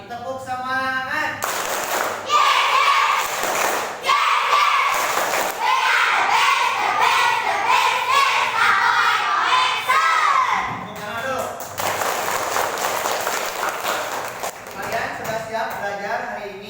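A class of children performs a rhythmic patterned clapping routine, with quick regular claps in repeating bursts mixed with their voices, pausing briefly before starting again.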